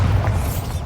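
A Bombarda blasting spell going off in Hogwarts Legacy, one short, loud, dense boom.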